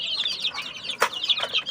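A flock of forty-day-old native chicks cheeps in rapid, shrill overlapping calls at close range, broken by one sharp knock midway before the chirping carries on.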